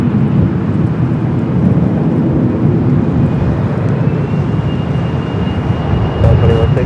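A jet airliner rolls for takeoff from runway 24 left at LAX, a loud steady engine roar and rumble holding throughout, with radio voices talking over it.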